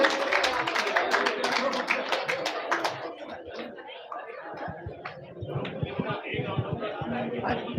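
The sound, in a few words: audience clapping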